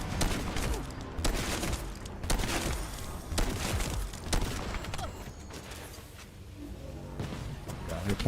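Rapid, fairly faint gunfire in the video game The First Descendant, with repeated shots and mechanical clanks continuing steadily with no talking.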